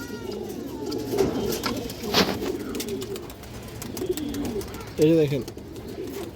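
Pigeons, including green-necked breeds, coo in low, throaty bursts close by, with a louder rolling coo near the end, while someone talks over them throughout.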